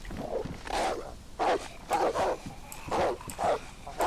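Animals in the video game DayZ growl and bark in repeated short bursts, fairly loud and close, with brief pauses between them.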